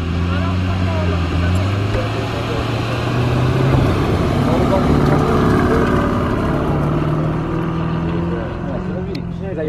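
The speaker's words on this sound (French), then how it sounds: "est-ce que vous vous attendiez à voir un Lamborghini Urus sur la plage, comme ça, en plein drift?" A Lamborghini Urus drifts on the sand of Nazaré beach, its engine droning and rising in pitch before settling, under steady gritty rumble and someone talking over it throughout.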